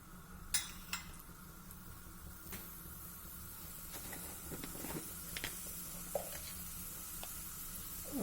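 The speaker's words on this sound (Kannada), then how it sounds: "ಎಣ್ಣೆ ಬಿಸಿ ಆಗಿದೆ. ಈಗ ಇದಕ್ಕೆ 1 ಚಮಚ ಸಾಸಿವೆ ಹಾಕ್ತಾ ಇದ್ದೀನಿ, 1 ಚಮಚ ಕಡಲೆಬೇಳೆ ಮತ್ತು 1 ಚಮಚ ಉದ್ದಿನಬೇಳೆ" Mustard seeds, chana dal and urad dal sizzle in hot oil, a faint steady frying hiss with a few sharp pops and crackles near the start and scattered light clicks later, no voices.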